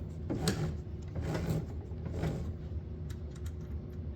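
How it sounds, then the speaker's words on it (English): A belt-drive clutch spun by hand gives faint clicking and rattling mechanical sounds, a few soft repeated bursts close by with no talking. "I'll just spin the clutch again."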